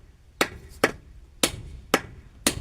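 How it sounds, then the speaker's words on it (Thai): Five sharp hammer blows strike wood at an uneven pace, each a crisp close knock with a brief ring, while nails are driven in; no talking. "ตอกดีๆย่าให้บิดย่าให้เบี้ยว"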